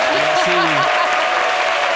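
A studio audience on a French midday TV show applauds for a singer, a broad wash of clapping under a brief sung or spoken vocal line near the start.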